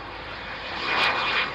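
Italian Air Force jet aircraft landing at the Royal International Air Tattoo, a steady loud engine roar that swells slightly as it passes close by, with no voices.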